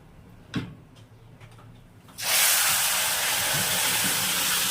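Hot tamarind stew tipped from a pressure cooker into a fenugreek and red chilli tempering bursts into a loud, steady, close sizzle after a couple of seconds of quiet kitchen clatter, then keeps hissing without letting up.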